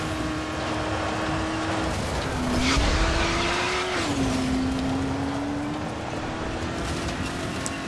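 A car driven in Dying Light: The Following, its steady engine drone holding a constant pitch, briefly rising and dipping as it revs, with a short surge of tyre noise near the middle, loud and continuous with no talk.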